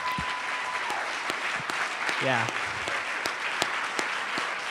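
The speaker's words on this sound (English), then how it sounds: "let's give a big round of applause to our" Conference audience at a STEM talent summit applauds a panel, a broad clapping roar with sharp individual claps standing out and a brief voice saying a word partway through.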